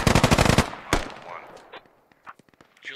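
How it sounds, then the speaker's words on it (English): Rapid bursts of enemy gunfire in a military shooter game, a loud automatic volley followed by a single sharp shot, then scattered fainter pops and movement sounds as the firing dies down. "They're returning fire."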